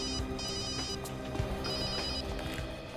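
A telephone rings steadily during a phone call in a CID crime drama episode, a continuous electronic ringtone with repeating tones over a busy background.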